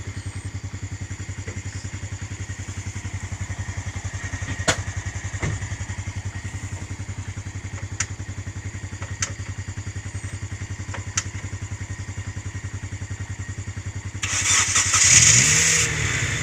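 A motorcycle idles with a steady low chug while jump-starting a stalled Honda Brio car, a few sharp clicks sounding along the way, then near the end the car's engine cranks and catches with a louder rising burst.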